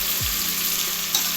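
Chicken leg pieces dropped into hot oil in a kadai for biryani, a close, steady frying sizzle with a brief thud as they go in, no talk.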